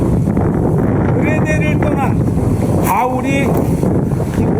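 Strong storm wind at sea roars steadily and loudly, with a voice talking over it throughout.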